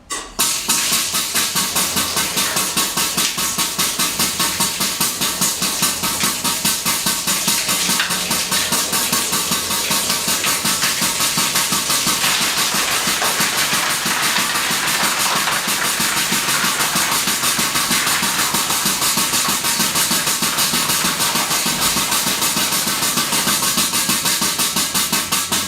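A DEMA foam cleaning machine sprays foam from its hose, a loud, continuous rushing hiss of compressed air and foam that holds steady throughout with no pauses.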